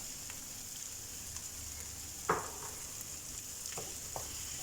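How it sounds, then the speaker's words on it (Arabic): Onion and garlic sautéing in oil, with a quiet, steady sizzle and a few soft stirring scrapes, one louder scrape near the middle. "بنزلهم فوق البصل، وكمان بحركهم مع بعض لحتى يدبلوا البصل والثوم ويغير شوي لونه"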